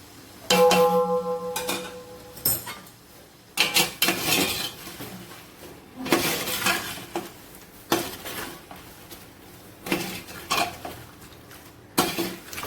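A spoon stirs and scrapes spiced chicken biryani masala in a metal cooking pot, with repeated clinking and scraping strokes coming in bursts separated by short pauses, close and fairly loud.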